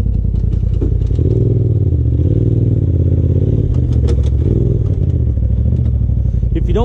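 An off-road motorcycle labors on a rocky trail climb at Windrock, its close, loud engine rumbling and revving unevenly with clattering noises over the top.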